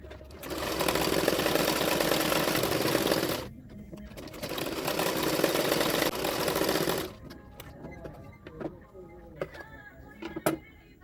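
Electric sewing machine stitching a belt onto the main fabric of a double katori blouse, running in two sustained bursts with a brief pause between, then stopping, leaving light clicks and handling noises.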